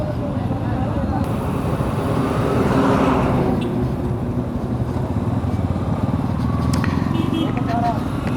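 A motorcycle ridden on a foggy early-morning bike tour through Singair, Manikganj, with constant engine drone and wind rush, loud and close, while riders talk over it.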